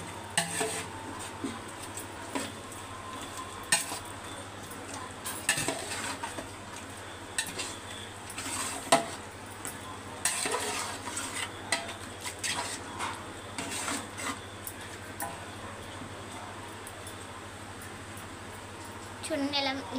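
A spiced masala with coriander powder is being stirred and fried in a pan, with scraping and clinking utensil strikes over a soft sizzle and a steady low hum, while a voice talks intermittently.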